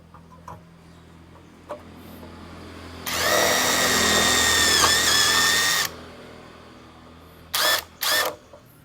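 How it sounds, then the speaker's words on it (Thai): An OSUKA OCID821 cordless impact driver drills into thin steel, whirring steadily for about three seconds with a slightly wavering pitch, followed by two short bursts of drilling, close and loud. "เจาะเหล็กบาง"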